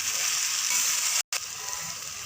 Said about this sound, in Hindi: सिर्फ 2 मिनट तक आपने इसे भूनना है